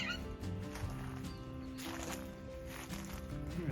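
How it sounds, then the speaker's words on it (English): A loud bird calls from somewhere overhead at the ruined Wat Ta Krai monastery in Ayutthaya, giving repeated harmonic calls over steady outdoor background noise, close and prominent. "I got a loud bird up there"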